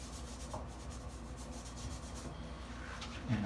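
Adhesive residue being wiped off a shower wall with a small wipe: soft repeated rubbing strokes close by, quiet and even, with a faint knock near the end.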